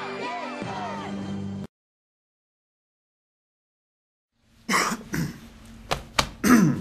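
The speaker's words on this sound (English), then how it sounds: "We've been coughing since we've been on" Coughing from someone with allergies: a few harsh, close coughs in quick succession after a stretch of talk and a silent gap.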